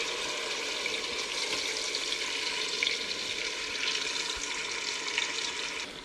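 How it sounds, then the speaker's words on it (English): Chicken browning in a Ninja cooker on sauté mode, a steady soft sizzle and hiss, close and even, with no voices. "I add the chicken so that it fries for just a few minutes to get browned"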